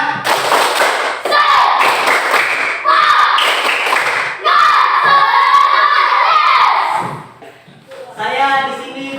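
A classroom group claps in unison in a rhythmic spirited-clap routine, loud bursts of patterned clapping mixed with children shouting and chanting along.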